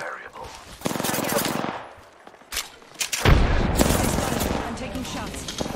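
Rapid automatic gunfire rattles in the Apex Legends video game, with several loud bursts separated by short pauses and a heavier sustained volley near the end, while a voice talks over parts of it.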